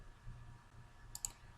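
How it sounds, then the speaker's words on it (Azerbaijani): Two faint computer mouse clicks, close together, over steady low background hum while working in a spreadsheet query editor. "Həmin sütun üzərində klik edərək"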